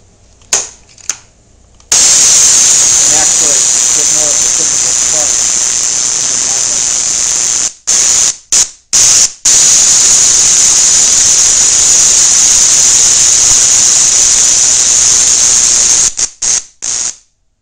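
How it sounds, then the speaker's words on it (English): A tertiary Tesla coil connected to a 1920 Fischer diathermy machine gives off a loud, harsh, steady buzzing crackle of spark discharge that runs for long stretches, broken by a few brief cutouts. "we can connect an extra coil, or tertiary coil, to the machine"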